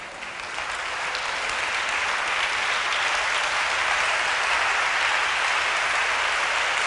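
A church congregation at a seminar applauding, a dense, sustained wash of clapping that swells in quickly and holds steady and loud throughout.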